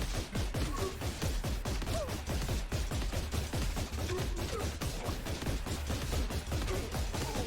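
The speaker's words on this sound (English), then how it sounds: "So run and gun, take out the enemies." Continuous rapid gunfire from the Xbox One shooter Freakout: Calamity TV Show, dense bursts of shots running nonstop at steady volume with game effects mixed in and no voices.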